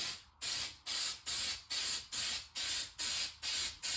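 Spray gun coating a 1980 John Deere 400 tractor in paint, nine evenly spaced hissing bursts about half a second apart with brief gaps between passes, close and steady.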